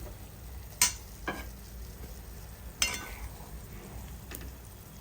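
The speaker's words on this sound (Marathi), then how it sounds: "तुम्ही बघू शकता इथे हिरवी मिरची ऑलमोस्ट परतून झालेली आहे" Green chillies fried in oil as a soft, steady sizzle, with a few distinct clinks and scrapes of a spoon against the pan as they are stirred.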